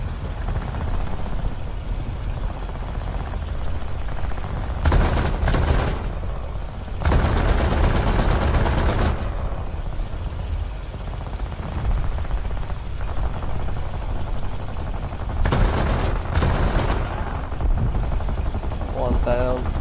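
Aircraft gunfire in War Thunder's Battle of the Coral Sea campaign crackles out in several loud, separate bursts over a steady engine drone.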